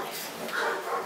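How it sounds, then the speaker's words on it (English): Dogs barking and yipping close by in a home, a short burst of excited, overlapping barks with a whimpering edge, heard alone without talk. "You can probably hear them. I don't know what they're barking at."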